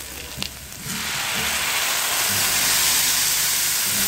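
Blended green sauce pours into a pan of golden fried garlic with oregano and pepper and erupts into a loud, steady sizzle and hiss that builds after a short quiet start and keeps going.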